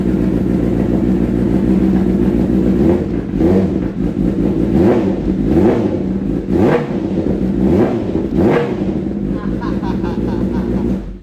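A Kawasaki H2 police motorcycle sits idling loud and close, then its engine is revved hard in a rising and falling series of five or six throttle blips before settling back to idle.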